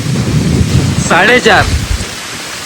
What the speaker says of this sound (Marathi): इथे अचानक वाऱ्याला सुरुवात झालेली आहे. म्हणजे एक तुफानी वादळ म्हणू शकता.